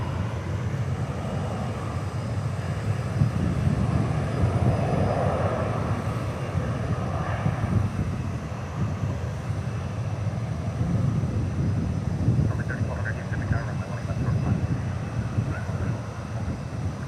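A heavy Qantas jet airliner lands at DFW Airport, its broad engine roar rising and fading at a distance amid wind buffeting, with a brief higher whine near the end.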